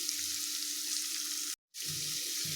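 Grated carrot sizzles and fries in a pan for a carrot curry, a steady close crackle that cuts out briefly and then resumes with soft stirring scrapes, with no talk.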